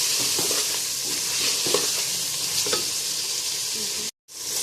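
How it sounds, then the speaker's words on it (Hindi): Spices frying in oil for a chicken daal, a loud continuous hiss with occasional soft scrapes of stirring, cut by a brief moment of silence near the end. "मसालों को हम अच्छे से भून लेंगे।"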